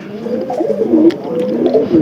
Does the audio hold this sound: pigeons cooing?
yes